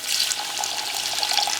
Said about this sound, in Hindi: और इसको एक बार और भूनने के लिए हल्का सा पानी का प्रयोग भी कर रहा हूँ,